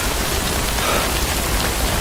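Steady rain falls across the whole stretch, a dense, even hiss of drops on surfaces with a low rumbling undertone and no voices.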